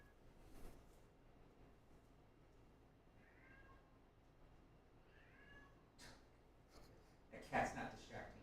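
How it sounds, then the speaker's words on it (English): A house cat meows twice in the background during a straight pool match, with clacks and brief talk around it. "That cat's not distracting at all."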